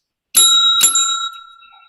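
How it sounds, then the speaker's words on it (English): A small hand bell rung as a timekeeping signal at a virtual conference presentation gives two bright, ringing strikes about half a second apart, then a long shimmering decay, loud and alone. "we're going to be ringing a bell when you are 13 minutes into your presentation"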